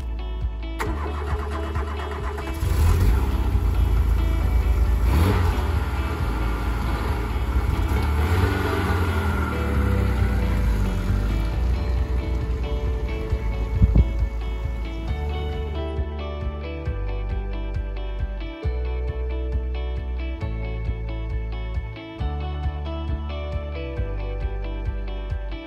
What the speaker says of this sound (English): let's see if this car's splutter has returned, because it really did drive very well up there